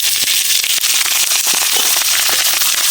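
Cut potatoes dropped into hot oil in a wok, a loud, dense crackling sizzle with sharp pops scattered throughout.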